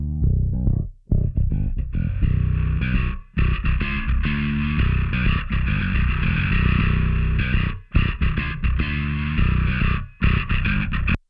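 Combined bass guitar track with distortion blended against the clean low end, playing a loud, continuous riff with a few brief gaps between phrases.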